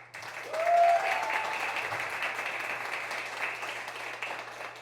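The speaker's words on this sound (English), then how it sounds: "So I'm gonna do this by round of applause." A keynote audience at a retail conference claps as a show-of-applause vote, a sustained moderate round of clapping with a faint voice-like tone briefly near the start.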